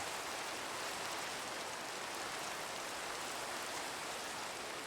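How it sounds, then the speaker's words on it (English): Steady rain falls in the Minecraft video game, a dense, even hiss of raindrops that stays constant throughout with no voices over it. "I'm tired of not being able to see in the rain."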